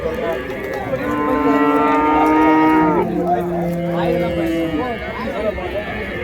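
Cattle and calves at the Vaniyambadi cattle market, with several loud, close, drawn-out moos overlapping one another above a busy background of crowd chatter and speech.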